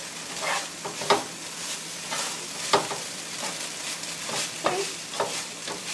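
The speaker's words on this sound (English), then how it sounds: "Just integrate that really good with your rice." Rice and chicken stir-fried in a hot pan, steady sizzling under repeated scraping and tossing strokes from a utensil, close and clear with no talking.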